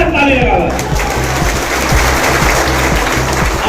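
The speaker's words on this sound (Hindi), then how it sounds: "एक बार माननीय विधायक के लिए, माननीय मंत्री जी के लिए जोरदार ताली लगा।" Crowd applause at a public welcome ceremony for a minister in Katihar, Purnia, dense continuous clapping from a large audience filling the hall, steady and loud throughout.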